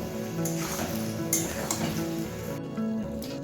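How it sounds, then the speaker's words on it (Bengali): Fried katla fish is stirred into a chilli fish mixture in a pan, with a loud, steady sizzle, utensil scraping and a few light clinks close by. No one speaks. "এবার ফ্রাই করা মাছটা আমি দিয়ে দিলাম। সবটাকে খুব ভালোভাবে মিশিয়ে নেব।"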